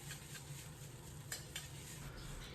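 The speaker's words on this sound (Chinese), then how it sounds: "炒至米粉在锅中翩翩起舞，刷刷作响时就可以了" Rice noodles are stir-fried in a wok over high heat. A steady hiss of sizzling carries under brisk scraping and tossing, with a few sharper metallic scrapes standing out. Nobody speaks.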